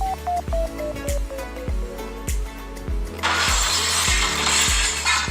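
A phone app plays a glass-shattering sound effect. It comes as a loud crash and a bright, sustained tinkling spray, layered over a rhythmic, looping mechanical pulse.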